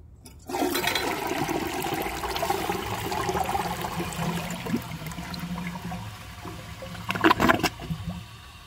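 A 1992 Universal-Rundle Atlas toilet flushes with a washcloth in the bowl, giving a steady rushing, gurgling swirl of water for several seconds, then a brief louder surge and trickle near the end, with no talking.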